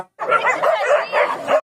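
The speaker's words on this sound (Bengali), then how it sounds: "যেভাবে কুকুরগুলো ঘেউ ঘেউ করছে" Dogs bark and yelp in one close, loud burst of about a second and a half, rising and falling in pitch with no other sound around it.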